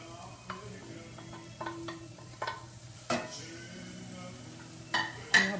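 Eggplant being added to a hot pan and frying, with a steady sizzle, intermittent stirring scrapes and light clinks of a utensil against the pan.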